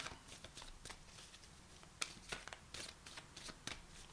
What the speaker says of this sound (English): I keep feeling compelled to keep shuffling these